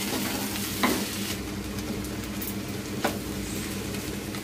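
Food fries in a pan with a constant close sizzle, broken by two sharp utensil knocks or scrapes against the pan, with no speech.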